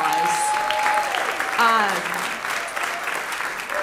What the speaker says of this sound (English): So let's go give him a big round of applause.